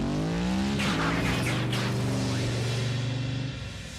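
Engine revving from a Transformers Prime car-mode Autobot, a loud sustained roar that climbs in pitch and holds steady for several seconds before easing off at the end, with faint voices beneath.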